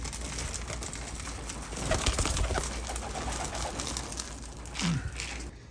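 Racing pigeons coming down at a home loft after a tough young-bird race, with soft cooing and brief wing flutters over steady outdoor background noise, a louder flurry near the end.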